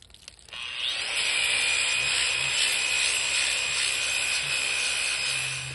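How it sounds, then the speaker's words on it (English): A grinder fitted with a worn 30-grit pad works a large Petoskey stone, a steady harsh grinding roar with a high whine that starts abruptly after a brief quiet moment and runs on unbroken, close and loud. "You got to grind down so that you can get the grinder into the low spots."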